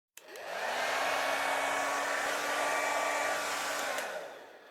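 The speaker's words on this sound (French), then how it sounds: "Avec un sèche-cheveux." A hair dryer blows steadily for about four seconds, a loud continuous whoosh with a motor whine, switching on abruptly and winding down at the end, with no voices.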